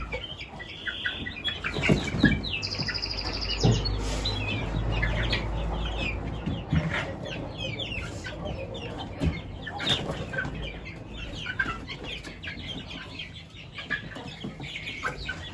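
Turkey chicks peep busily and continuously while being fed, with a mother bird clucking and flapping nearby and a farmyard murmur underneath.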